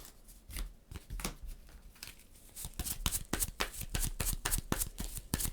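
In a solo game of Imperium Horizons, cards are discarded and drawn: close, crisp card flicks and slaps come in quick irregular bursts, growing busier toward the end, with no talking.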